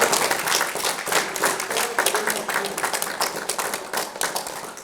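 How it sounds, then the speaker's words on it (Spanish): An audience applauds a guest speaker, a 38-year-old instructor in ancestral cultural identity, at a talk on ancient Mexican history; strong, continuous clapping from a crowd with distinct individual claps, gradually tapering. "Un fuerte aplauso para nuestro."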